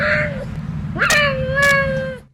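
A cat meows loudly and close by, one short cry and then a longer, rising, drawn-out meow over a low background hum.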